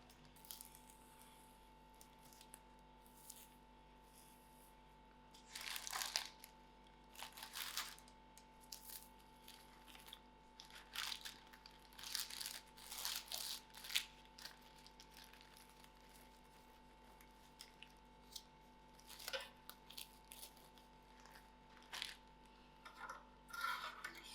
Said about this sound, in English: now I am going to cling wrap